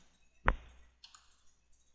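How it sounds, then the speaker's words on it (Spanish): A single sharp computer keyboard key click, then a few faint, lighter clicks from deleting text, close and quiet in an otherwise silent room. "vamos a borrarla así con el teclado"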